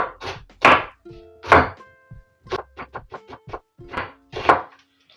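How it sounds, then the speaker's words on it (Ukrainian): A knife chops green onion finely on a board, giving sharp, close thunks in irregular bursts with short pauses between groups of cuts. "треба мені пір'ячками нарізати цибульку. Стараюся нарізати дрібненько."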